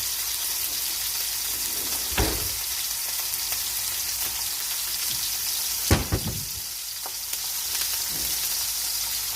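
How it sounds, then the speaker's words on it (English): Steaks sear in a hot pan with a steady, dense sizzle, broken by a few sharp clatters and scrapes of tongs against the pan. "Get yourself some tongs as soon as you lay the steaks"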